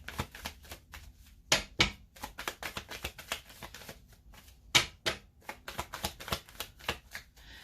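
Tarot cards being shuffled by hand, soft riffling bursts and sharp slaps repeating in an uneven rhythm, close and fairly quiet, with no talk.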